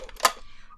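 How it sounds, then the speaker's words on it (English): A small paper trimmer blade slicing through card stock in a single quick cut, a brief crisp snap standing alone in a quiet room. "So we're gonna take our baby trimmer."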